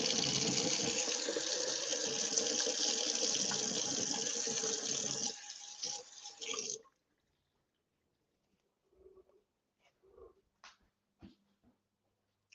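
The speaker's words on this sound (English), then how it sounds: "Just going to wash my hands" Tap water running steadily into a sink during handwashing, a loud even splashing rush that stops abruptly, followed by a few faint clinks and drips in near silence.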